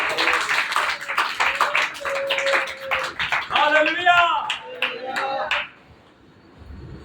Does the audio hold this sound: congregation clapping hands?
yes